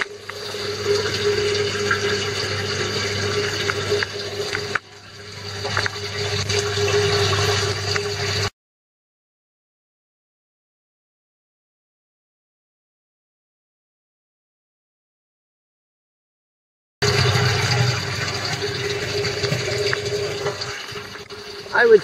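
Water gurgles and rushes continuously as it drains through an aquaponics bell siphon with a 1-inch pipe, with a long stretch of silence in the middle before the flowing resumes.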